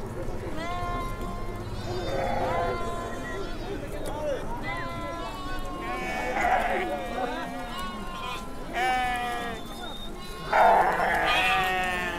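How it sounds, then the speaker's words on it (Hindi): Goats bleat repeatedly at a mule race on the mountain pilgrimage trail to Kedarnath, their calls rising out of a busy crowd where people talk throughout, with several louder, nearer bleats standing out. "अब खच्चरों की रेस में बकरियां भी दौड़ेंगी।"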